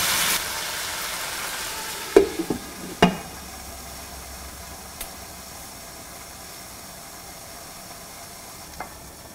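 Pork chops with lemon juice sizzle and fry in a covered pan over medium-low flame, a steady hiss running throughout, with a few brief clinks and clicks of utensils near the start.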